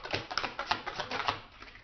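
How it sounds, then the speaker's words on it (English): Tarot cards being shuffled close by: quick, soft clattering flutters repeating in a rapid rhythm, with no talking. "Let me shuffle again."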